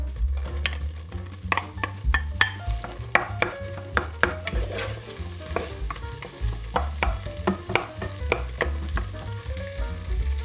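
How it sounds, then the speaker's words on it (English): Onion and garlic frying in a pot for Irish stew, a steady close sizzle broken by repeated sharp scrapes and clinks of a spoon stirring against the pot, with no talking. "In goes the onion and the garlic."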